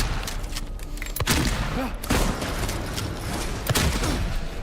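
Shotgun blasts in Silent Hill 2 come as a few booming shots spread over several seconds against a dense, noisy game backdrop, close and fairly loud.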